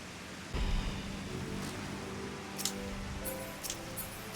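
Rain falling in the video game Final Fantasy XIV: a steady, soft wash of hiss, fairly quiet and continuous, with a few faint brighter splashes near the end and no voices.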